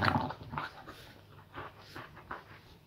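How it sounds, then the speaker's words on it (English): A boxer dog makes soft whimpering, snuffling and low grumbling noises in short uneven bursts, close and fairly quiet, with no talk. "tell me if your dog does this, if your boxer dog does this"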